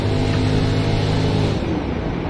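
Race car engine in a racing video game, running low on fuel, drones loudly with a steady low rumble for a second and a half, then cuts and fades as the car shuts off.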